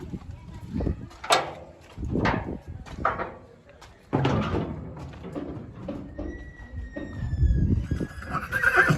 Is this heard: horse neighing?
yes